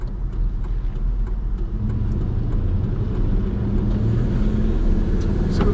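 Car with a Hemi engine driving, a low steady engine rumble with road noise throughout, close and continuous with small surges as it accelerates.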